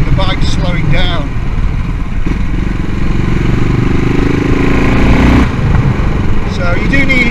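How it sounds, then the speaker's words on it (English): A CCM Bobber motorcycle is ridden on the road, its engine rumbling close and loud with shifting revs while a voice talks over it throughout. "You just kind of almost think the bike's slowing down."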